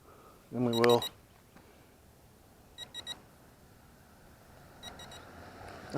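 A voice speaks briefly, then a cheap toy drone gives two separate bursts of three quick high-pitched battery-level beeps, each set crisp and evenly spaced.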